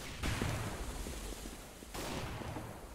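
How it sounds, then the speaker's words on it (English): A flashbang grenade going off in the game CS:GO: two loud broadband bursts, one just after the start and another near two seconds, each leaving a sustained noisy wash with no talking. "I'm gonna flashbang everyone!"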